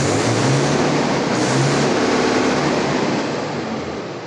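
A Mahindra MAT series 50HP tractor's diesel engine, rated at 2100 rpm, runs in a steady loud drone close by, with no voices.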